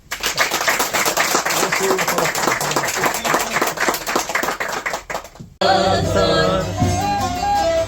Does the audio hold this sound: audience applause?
yes